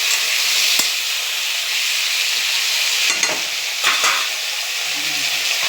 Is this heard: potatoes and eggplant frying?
yes